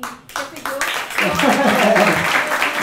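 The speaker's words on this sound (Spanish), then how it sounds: "ustedes se merecen un wow, un aplauso fuerte." Clapping from an audience at a Dominican film showcase screening at Symphony Space in New York swells into a loud, dense burst. Scattered voices mix into it.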